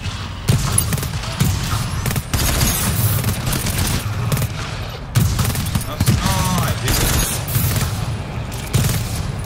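Automated sentry turret in the game GTFO firing long rapid bursts of gunfire, loud and close, with short breaks between volleys and some mechanical clatter, voices occasionally heard underneath.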